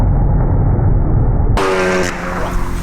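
A 600 bhp MK2 Golf G60 Rallye and a 500 bhp MK8 Golf R drag racing, heard as loud, close engine roar that cuts sharply into a higher, strained whine of hard acceleration.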